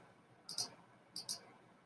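Two quick pairs of computer mouse clicks, close and crisp, separated by a short pause against a quiet room background.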